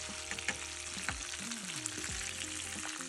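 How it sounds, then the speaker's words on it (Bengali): T-bone steak frying in a hot pan with butter, a steady close sizzle with crackling pops throughout, and faint scraping and pressing sounds from handling the meat. "স্টেকটির চারপাশে আমি এভাবে প্রেসার দিয়ে নিচ্ছি যাতে ইভেনলি কুক হয়।"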